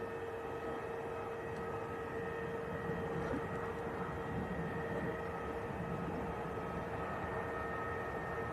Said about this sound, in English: Jet2 A321, not a Neo.